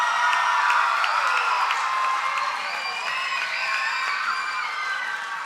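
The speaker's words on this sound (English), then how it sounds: "So let's give him a big round of applause." A crowd at an Empire State Excellence in Teaching award event cheers and applauds, with high whoops and shouts over scattered clapping, steady and fairly loud throughout and no speech on top.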